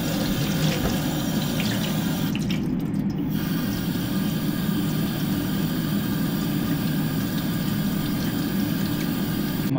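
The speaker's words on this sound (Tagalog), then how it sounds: "Banlawan ko muna." Tap water runs steadily into a sink while produce is rinsed, a continuous close splashing flow that stays even throughout with no one talking.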